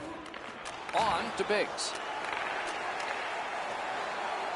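A hockey arena crowd roars and cheers after a goal, a steady, loud wash of noise that stays up throughout while a commentator calls the play over it.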